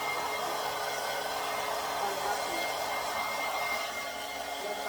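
A hair dryer blows steadily at close range, drying a freshly bathed dog's fluffy fur, a continuous airy whoosh with no breaks and no speech.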